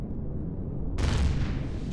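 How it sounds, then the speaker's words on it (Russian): Enemy fire sets off an explosion in space in the video game Empyrion Galactic Survival: a low rumbling bed, then a sudden loud blast that fills out into a heavy boom. "ну хоть взрывы слышны, когда по мне лупят"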